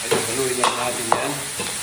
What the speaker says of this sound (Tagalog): Igisa natin, siyempre.